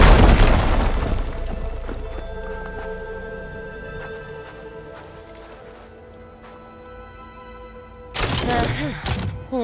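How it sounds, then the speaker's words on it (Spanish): A loud booming burst opens in the video game Horizon Forbidden West, followed by lingering rumble and clatter, then a second heavy blast near the end. "Marchando una explosión."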